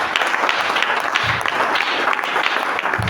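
A church congregation applauding and cheering the Lord, dense sustained clapping with crowd noise that keeps a steady level for a few seconds and sounds close and full.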